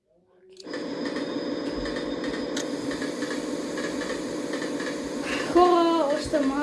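Train running on rails in a train simulation game, a continuous hissing rumble with steady mechanical tones that swells louder near the end, while someone talks over it.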